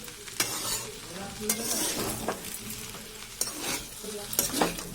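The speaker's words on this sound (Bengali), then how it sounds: "একটু নাড়বো।" Chow mein sizzles and fries in a pan while a utensil stirs it, giving repeated sharp scraping strokes over a steady crackle, close up and with no voices.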